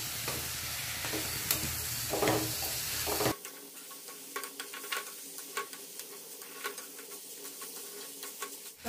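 Soaked lentils hit a pan of onion and tomato with a burst of loud frying, then settle into a quieter sizzle under repeated spoon stirs and scrapes.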